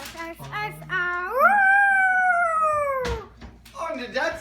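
A puppy howls during a Christmas dog sing-along, one long rising then falling wail that follows a few short yips and whimpers and is trailed by a brief human voice.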